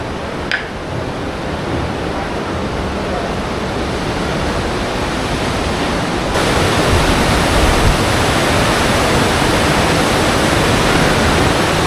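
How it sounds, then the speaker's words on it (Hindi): A river rushes below the hot springs at Manikaran in the Himalayas. Loud, steady broadband roar of fast-flowing water fills the whole stretch, constant and close, with no voices. "नीचे की तरफ से बह रही है नदी और साथ में धुआं भी उठ रहा है।"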